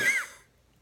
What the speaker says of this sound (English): Are you okay? You were coughing.